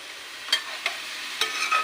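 Sliced onions for fish curry fry in a pan with a steady, soft sizzle broken by a few quick scraping stirs from a spoon; no voices.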